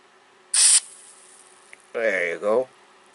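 Short bursts of aerosol grease sprayed from a can into the mechanism of a Marantz SD-535 cassette deck: one sharp hiss, then a pause, then two fuller buzzing sprays close up, with no talking.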